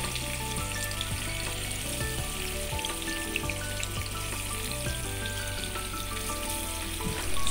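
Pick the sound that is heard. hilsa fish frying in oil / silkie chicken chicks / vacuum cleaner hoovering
hilsa fish frying in oil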